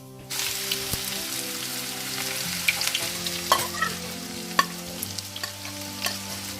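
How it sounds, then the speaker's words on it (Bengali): Onions frying in plenty of oil for birista for Bangladeshi kacchi biryani, a dense, close crackling sizzle that starts abruptly and continues with sharper pops and stirring scrapes. "একটু বেশি তেলে ভাজতে হবে বেরেস্তা"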